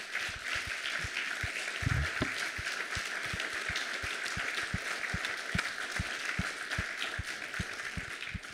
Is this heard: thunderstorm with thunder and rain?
no